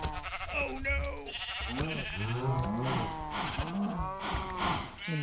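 Minecraft animals low and bleat in overlapping calls, a mix of cow moos and sheep-like bleats repeating close by without pause and without talk.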